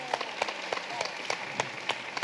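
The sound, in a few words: audience applause for a panel speaker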